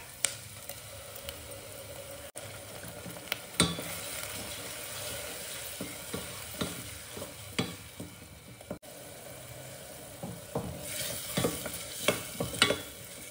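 Ground coriander paste with ginger and garlic being sautéed in a pan over softened onions for coriander pulao, with a low steady sizzle and repeated spoon scrapes and stirring knocks throughout.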